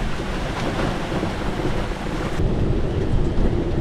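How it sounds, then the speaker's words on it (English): Thunderstorm heard from inside a van, with dense, steady rain drumming and low rumbling thunder filling the space, close and loud, with no voices. "It's a first storm that we can't hide from in bricks and mortar."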